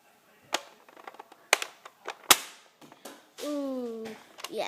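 Nerf toy guns fire several sharp, close snaps at irregular intervals, followed by a short whistling tone, with no talk.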